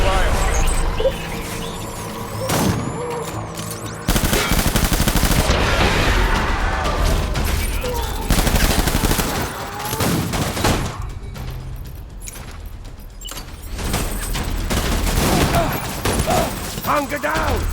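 Heavy gunfire rattles in the video game Death Stranding, with bursts of automatic fire and loud blasts coming close and continuous over an intense battle mix. Shouted voices break through the shooting.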